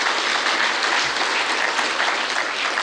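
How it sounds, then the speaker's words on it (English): A crowd applauds steadily, a dense, even wash of clapping that holds at the same level throughout with no voices. "Round of applause there, please."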